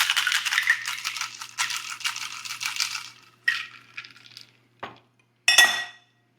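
Ice rattling in a cocktail shaker while a Sleepytini is mixed, a vigorous rhythmic clatter for about three seconds, then a few separate clinks and a final sharp rattle, close, without speech.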